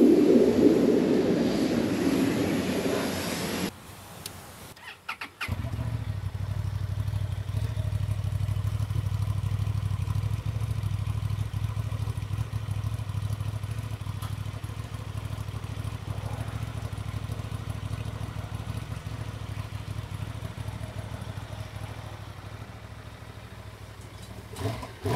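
A 2023/2024 Honda Transalp XL750 motorcycle engine runs at a steady low idle, a continuous deep rumble heard nearby and alone after a brief opening burst of other sound.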